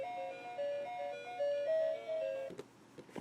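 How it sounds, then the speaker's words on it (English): A tinny electronic chiptune video game theme plays from a toy box as its flap opens, in steady beeping notes, then cuts off abruptly near the end, followed by faint clicks and handling noise. "So when you open the flap, it plays music from the game"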